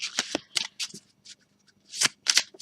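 Oracle cards riffled and shuffled by hand, crisp papery flutters in several short bursts with quiet gaps between them.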